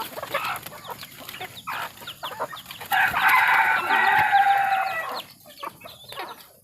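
Labuyo jungle fowl roosters crow loudly nearby while hens cluck in short bursts around them, one long crow dominating the middle.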